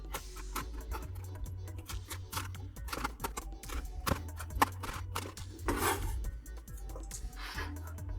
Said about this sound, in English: I'm going to come through and julienne these out nice and fine.